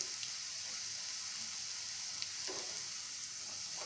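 Bitter gourd chips frying in hot oil give a steady, close sizzle with faint crackles and pops throughout, no voices.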